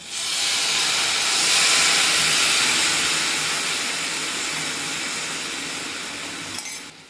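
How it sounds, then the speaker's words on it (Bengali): Milk poured into a hot pan of fried grated carrots for gajar halwa, a loud continuous steaming hiss and sizzle that swells early and then slowly fades, with a brief clink near the end. "এবারে দুধটা ঢেলে দিচ্ছি।"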